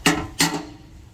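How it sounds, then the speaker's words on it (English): A regular hammer strikes a dented metal Harley motorcycle tank twice in quick succession, sharp and loud up close, each blow leaving a short fading ring. "Regular hammer for this"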